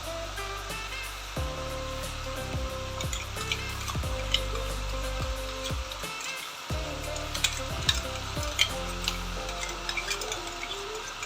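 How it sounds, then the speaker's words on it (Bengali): Ginger, garlic and chili paste frying with chicken in a pan makes a soft, continuous sizzle with occasional stirring, fairly quiet beneath steady tonal background music. "এরপর আমি এর মধ্যে সেই আদা রসুন লঙ্কা পেস্টটা ঢেলে দেবো।"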